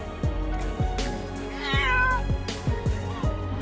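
A cat just rescued from water meows several times close by, with loud drawn-out cries, one rising into a higher wavering wail, over a continuous low rumbling background.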